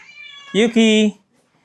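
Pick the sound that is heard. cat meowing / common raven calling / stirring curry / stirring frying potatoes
cat meowing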